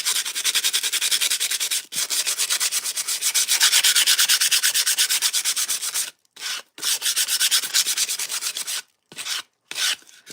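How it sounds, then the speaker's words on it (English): A hand sands an edge with fast, rhythmic back-and-forth rubbing strokes, loud and close, broken by a few short pauses and with no talking. "So I'm just sanding this slightly just to knock the edge off."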